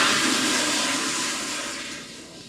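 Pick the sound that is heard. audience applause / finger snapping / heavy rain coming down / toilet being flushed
toilet being flushed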